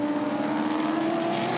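A V8 supercar at full speed on the Hidden Valley Raceway circuit, a continuous loud, high engine wail holding steady with no talk.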